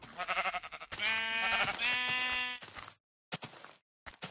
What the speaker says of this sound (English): Fucking sheep.